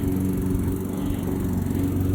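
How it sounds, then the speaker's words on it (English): A lawn mower engine runs steadily at moderate distance during an outdoor walk, a constant buzzing drone with no pauses and no talking. "lawnmower, buddy"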